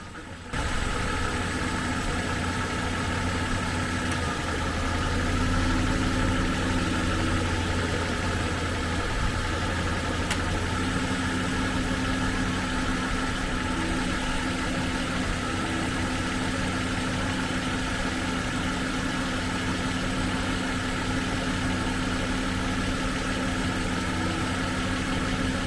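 A Jaguar XJ40 idles steadily while its cooling fan whirs continuously over the low engine hum, a close, even drone with no talking across the whole stretch.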